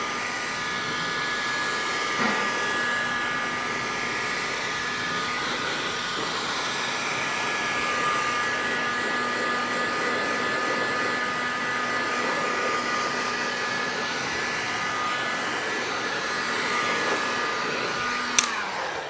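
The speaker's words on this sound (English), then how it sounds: "hot air gun like so, then you can just use a hairdryer or anything just to dry it off basically" A steady, even whoosh of blowing hot air from a hot air gun runs without pause for the whole stretch, loud and close, with a faint tonal hum underneath.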